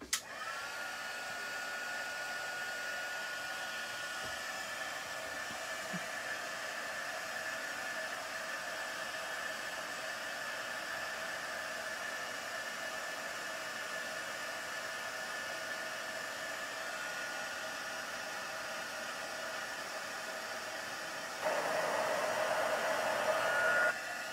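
A heat tool blows steadily over embossed paper during a papercraft project, a continuous close whooshing hiss that runs for over twenty seconds and gets louder near the end.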